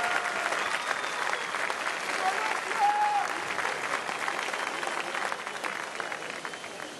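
Sustained applause from the audience at the 2013 Coupe du Monde de la Pâtisserie greets the Colombian pastry team, an even, moderately loud crowd clapping that holds steady throughout, with faint voices mixed in.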